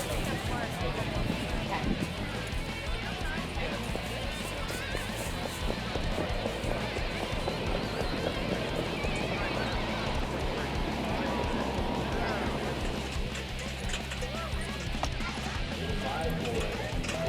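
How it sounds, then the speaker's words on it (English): Standardbred harness racing horses trot in the Maryland Sire Stakes three-year-old final, their hoofbeats a steady rapid clip-clop under a commentator's continuous voice, with a low rumble joining in the later seconds. "Geralds A Keeper just too good to take the Maryland Sire Stakes final"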